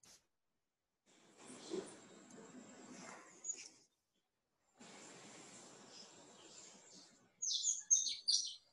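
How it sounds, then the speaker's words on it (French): Birds chirp faintly in the background of a live online webinar, heard over open microphones: quiet breathy room noise first, then a short cluster of bright, high tweets near the end. "Mais j'entends des oiseaux, effectivement."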